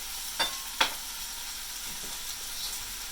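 Onions frying in a pan for a red sauce, giving a quiet continuous sizzle with two sharp utensil taps early on and a few soft stirring scrapes.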